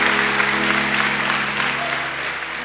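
A church congregation applauds together, a dense and steady clapping that fills the room and tapers slightly at the end.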